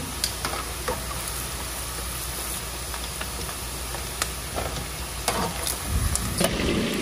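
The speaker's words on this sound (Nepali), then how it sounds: "अचारमा लगाउने म यहाँ लसुन खार्दैछु, लसुन खर्याउँछु" Garlic sizzles and fries in hot oil for a chicken pickle, a steady broadband hiss running throughout with faint scattered crackles and a slightly louder burst near the end.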